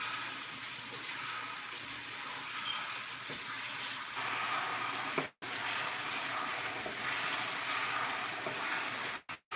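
Chicken and rice stirred in a pan as the sauce thickens, a steady broadband sizzle and simmer with a faint scraping texture, close and continuous with brief dropouts.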